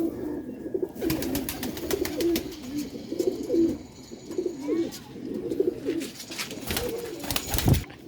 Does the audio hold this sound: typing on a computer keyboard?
no